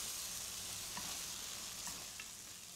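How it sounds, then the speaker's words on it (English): Walnuts and aged balsamic are stirred together in a pan off the heat, with a soft sizzle and a few light scraping strokes of the spoon, quiet and close. "You can turn the heat off and just stir that together"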